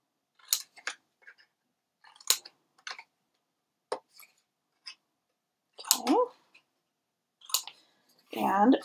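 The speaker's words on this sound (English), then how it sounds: "We're going to go ahead and cut our corners out." Scissors snipping corners out of craft paper for a photo box, a series of short crisp cuts in small clusters with quiet gaps between, close and clear, with a voice speaking briefly near the end.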